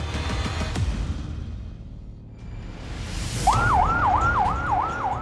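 An air-raid siren in Israel wails in a steady rising-and-falling cycle, starting partway through over a low rumble of traffic and distant noise.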